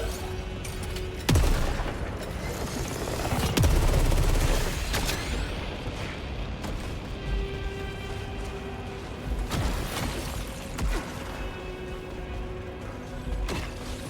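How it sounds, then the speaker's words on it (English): Hand cannon gunfire in the video game Saros: a few heavy, sharp shots boom out separately, each followed by mechanical clanks and creaking, with a continuous game soundscape between them and no talk. "Back to the hand cannon."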